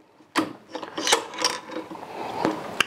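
The bolt of a Savage Model 11 rifle with a new barrel is pushed in, giving several close metallic clicks and scraping slides spread over a few seconds, ending in a sharp click.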